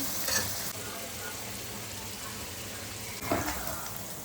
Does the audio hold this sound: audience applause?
no